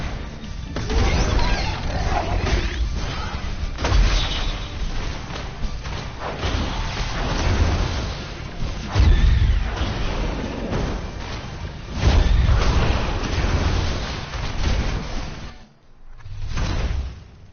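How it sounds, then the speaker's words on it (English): Explosions in the mech-fighting video game Override Mech City Brawl, a dense run of loud booming crashes and thuds that keeps going almost without a break, with a brief dip near the end before another blast. "Little exploding things."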